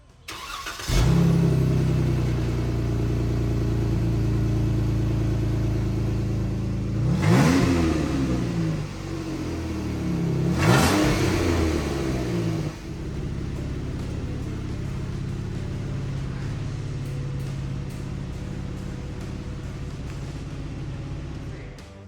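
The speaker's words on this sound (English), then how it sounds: "I told you my exhaust is old and busted, so I want to get a factory sound. So let's get down here and do a startup." A Jeep Wrangler JK with an old, worn stock exhaust cranks and starts, then settles into a steady idle with two sharp revs, close and loud, with no talking.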